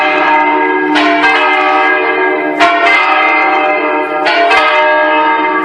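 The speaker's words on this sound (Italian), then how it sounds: "adesso le campane avrebbero finito di suonare su Matteo Renzi." Church bells in Farra di Soligo, Italy, ring loudly and continuously, with rich overlapping tones and fresh strikes landing every second or two.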